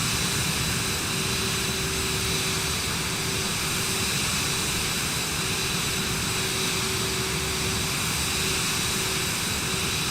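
Cirrus Vision Jet taking off in Microsoft Flight Simulator, a steady loud jet engine roar with broadband rushing noise and a faint sustained tone, constant throughout with no voices.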